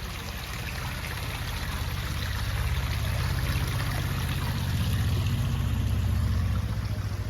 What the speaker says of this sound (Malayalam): ഇവിടെ ചെറിയൊരു കൈത്തോട് ഒഴുകുന്നുണ്ട്